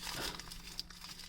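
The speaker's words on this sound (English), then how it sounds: "tissue paper that they wrap everything in these days" Tissue paper crinkles and rustles continuously while toy pieces from an advent calendar are unwrapped, close and quiet, with one brief sharper crackle partway through.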